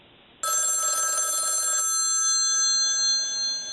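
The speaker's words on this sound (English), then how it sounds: "Did you hear that? Somebody's calling me." A telephone rings with a bright, steady electronic tone that cuts in abruptly and holds, loud and close, with no voices over it.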